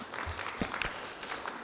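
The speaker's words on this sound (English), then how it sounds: "I think we deserve a clap for that." Audience at an annual general meeting in a Nairobi hotel claps, a brief burst of scattered applause heard at a moderate distance.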